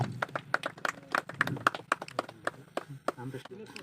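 Clapping from an audience at a farmers' field event, a dense run of sharp hand claps lasting several seconds, with talk mixed in.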